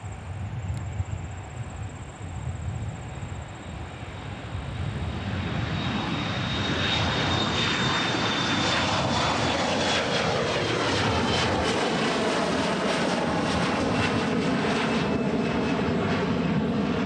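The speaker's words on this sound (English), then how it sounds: "Now on the roll, departing 30 left, we've got SkyWest 3791 bound for Oklahoma City" A SkyWest jet airliner rolls down runway 30 left at Minneapolis–St. Paul airport, its engines building from a distant rumble to a loud, sustained roar with a rising whine as it accelerates for takeoff.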